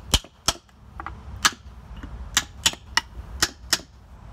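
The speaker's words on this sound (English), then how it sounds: "with the hammer start hitting it on both sides" Sharp metallic hammer blows strike a Toyota Tundra four-piston brake caliper, about a dozen close, loud impacts at an uneven rhythm, some in quick pairs.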